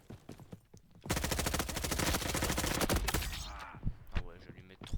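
Automatic gunfire in the Roblox shooter Frontlines: a long sustained burst of rapid shots lasting a couple of seconds, loud and close, followed by a few scattered single shots.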